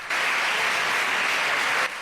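Parliament members of the independentist bloc applaud after a resolution vote, a dense, steady wash of clapping that starts abruptly and fills nearly two seconds before cutting off.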